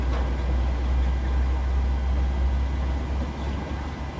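Airliner engine running after start in Microsoft Flight Simulator 2020, a steady low rumbling hum with a broad whooshing wash above it, even and continuous with no voices.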